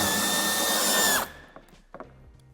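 A power drill or driver runs steadily on a screw in the wheel arch of a 2022 BMW X1 (U11), then stops abruptly partway through, leaving a few faint clicks and handling sounds.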